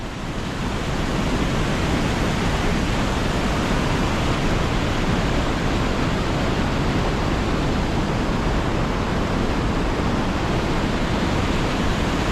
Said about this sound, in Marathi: पाणी किती जोरात आणि किती जबरदस्त आहे आवाज बघा या पाण्याचा